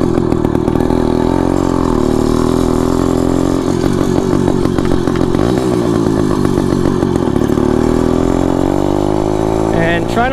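The small engine of a motorized bicycle runs loudly and steadily, idling with a rough, buzzing putter throughout, close to the listener and with some roughness toward the end.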